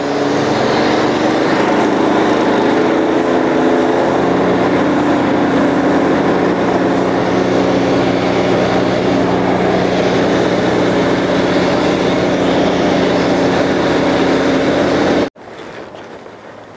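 A cold water jetter's engine runs steadily and loud at idle, not revved up, while clearing a 12 inch pipe; a constant droning hum fills the clip until it cuts out abruptly near the end, leaving quieter background.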